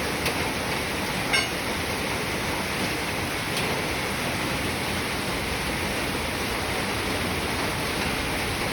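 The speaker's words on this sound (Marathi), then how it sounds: "पावसात गारा पडलेल्या आहेत" Hail falls together with rain, giving a dense, unbroken hiss of loud, steady downpour with a faint click or two near the start and no voices.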